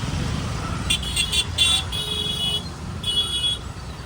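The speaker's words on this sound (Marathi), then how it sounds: "एकदम खतरनाक ट्रॅफिक आहे इथं" A heavy traffic jam in the rain near a bypass during the Kalyan dahi handi festival: a dense low rumble of idling vehicles, broken by several short car horn toots in bursts from a modest distance.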